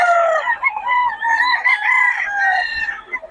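A seven-month-old stag rooster crows loud and close in one long, wavering call lasting a few seconds.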